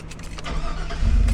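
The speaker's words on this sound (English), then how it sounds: "Let's start the car." A 2001 Chevrolet Silverado pickup engine cranks and catches, its low rumble swelling louder and steadier near the end of the short burst, close by with no talk.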